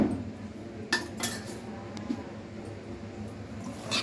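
Utensil clinks and scrapes in a bowl as chicken biryani marinade is mixed with oil, with a few sharp metallic taps over soft continuous stirring, close and fairly quiet.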